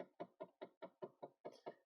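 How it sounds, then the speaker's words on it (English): Blend door actuator on a 2013 Dodge Charger SRT8 cycling through its HVAC self-test, a quiet, steady series of about nine evenly spaced mechanical clicks or knocks, roughly four per second, heard alone inside the car. "that is an HVAC blend door going through its self-test."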